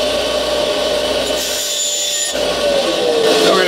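A hand saw cuts through a small wood piece for a spot welding pen, a loud close rasping rhythm of strokes that pauses briefly partway through and then resumes.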